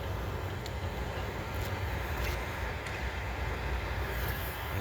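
A Norfolk Southern freight train rolls across the Delair Bridge, a steady, continuous rumble of wheels and railcars that holds at an even level for the whole stretch, with no voices.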